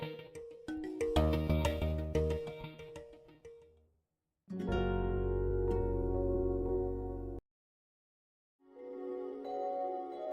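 A phone's ringtone plays in bursts of a tonal electronic melody, separated by brief silences, fairly close and clear with no voices.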